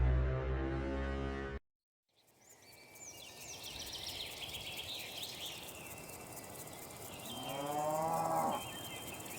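Screaming goat in the video game Little Misfortune, with a long, loud bleating cry at the start, then a brief silence, then an ambient outdoor bed with bird chirps and a second, shorter wavering bleat near the end.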